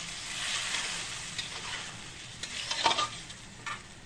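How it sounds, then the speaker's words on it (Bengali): Katla fish curry with potato and cauliflower sizzles quietly in a pan as it is stir-fried, a steady hiss with a few brief scraping stirs near the end. "অল্প গরম জল দিয়ে ভালো করে কষিয়ে নেব।"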